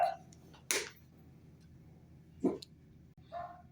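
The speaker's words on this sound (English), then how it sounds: "sorry about the barking outside" A dog barks outside, a few scattered single barks and a yip heard at a distance, faint against a quiet room background.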